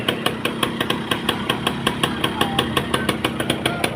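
A cheap used motorcycle-type engine with a hand clutch idles steadily, its rapid, even putter of firing pulses close and loud with no talking.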